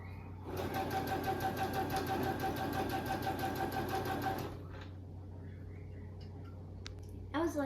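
Home sewing machine stitching a twin-size quilt, running at stitch length 2.5 and tension 2.5: a steady, fast mechanical whir and rapid needle ticking for about four seconds, then it stops, leaving quiet room noise and a few small clicks.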